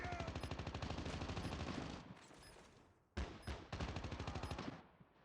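Rapid automatic gunfire from Destiny 2 PvP combat, sustained rhythmic bursts that break off briefly and resume with a sharp report, faint overall.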